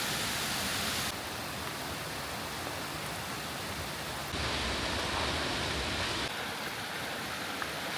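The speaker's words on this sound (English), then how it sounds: "I can hear this rumble of a waterfall." Steady broadband rumble of a waterfall beside a New Zealand hiking track, a constant roaring wash of falling water that swells slightly louder partway through, with no voices.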